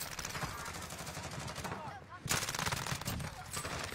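Rapid automatic gunfire crackles without pause in Call of Duty Warzone on the Caldera map, dense and fairly loud, with a brief lull midway, as players' voices talk over it.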